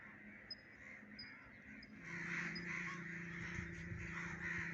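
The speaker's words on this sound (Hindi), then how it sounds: "कौवे गुजर रहे हैं सुबह सुबह" Crows cawing in the open air over village fields in rural Punjab on a fresh morning, several harsh calls from birds passing overhead, moderately distant, over a steady background hum.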